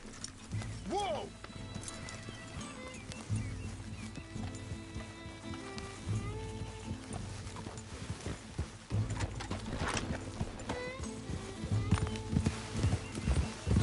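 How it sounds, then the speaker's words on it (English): Horse hooves clip-clop on the ground in the Red Dead Redemption 2 video game, a steady rhythmic gait with occasional whinnies, under game music and character dialogue. "Get back on the horse!"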